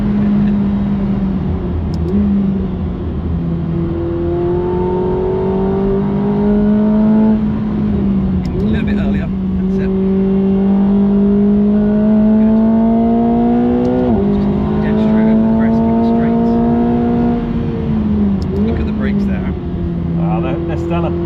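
A McLaren 750S sports car engine drones loudly on a race track and climbs in pitch through repeated gear changes, revving up again and again, with a voice talking over it.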